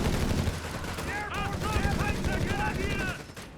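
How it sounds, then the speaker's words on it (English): BAR automatic rifle fire from Company of Heroes 3 clatters in sustained rapid bursts amid dense battlefield noise, with someone talking over it throughout. "Now we got a BAR as well there for some automatic fire"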